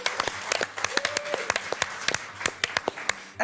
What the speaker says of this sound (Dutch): Applaus voor Martin!